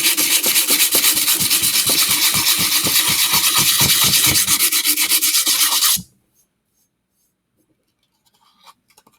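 Wood project hand-sanded with 120-grit sandpaper, fast steady back-and-forth scratchy rubbing strokes, loud and close for about six seconds, then it stops abruptly, leaving near silence and a few faint knocks.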